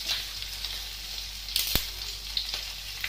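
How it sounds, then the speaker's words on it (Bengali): Bay leaf dropped into hot oil with asafoetida, ginger, green chilli and dried chilli: a steady, fairly loud hiss of sizzling with a couple of sharper crackles and spoon taps, close up and without talk. "তারপর দিয়ে দিলাম তেজপাতা,"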